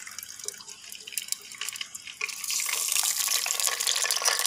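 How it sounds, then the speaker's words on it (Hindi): Cooking oil pours into a clay handi pot, first a few faint drips and trickles, then a steady close liquid stream that grows fuller and holds to the end. "अभी हम इसके अंदर ऑयल के डालने लगे हैं"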